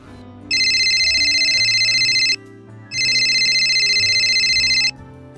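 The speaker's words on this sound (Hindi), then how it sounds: "रुखसाना के पास फोन करती हूँ, अभी बताती हूँ उसे।" An electronic phone ringtone plays in two long bursts with a short pause between them, loud and close over a low musical background.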